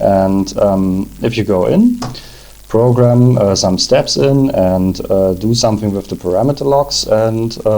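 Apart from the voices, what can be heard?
No everyday noises stand out.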